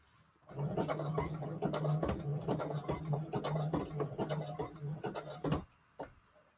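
A sewing machine stitches through paper for a Christmas junk journal embellishment, a fast steady mechanical rattle of needle strokes running for about five seconds, then stopping with a last short burst.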